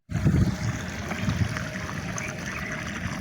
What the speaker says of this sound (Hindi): अभी ये पानी चल रहा है फसल में